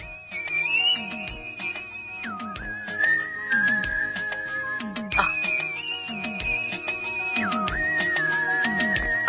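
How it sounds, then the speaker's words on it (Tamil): A man whistles a sustained, wavering tune in a Tamil film comedy scene, long held notes that dip and rise, over a busy background of clattering and banging. "ஒரு ஐயா மேலிருந்து வந்து விசில் அடிச்சாரு."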